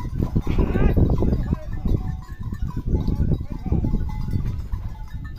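Goats bleat amid a busy outdoor scene on a mountain trail, overlapping with people calling and shouting as they herd them, the animal cries rising and falling among the voices.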